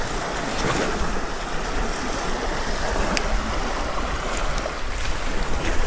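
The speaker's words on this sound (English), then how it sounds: "Hard to see through the waves." Ocean waves washing against a rocky shore at Whitefish Point on a foggy day, a steady broad roar of surf and wash with no clear breaks, fairly loud and close, with no voices.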